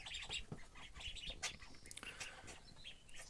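Faint, busy high-pitched peeping from several five-day-old mulard ducklings, chirps overlapping quickly and steadily, with no voices.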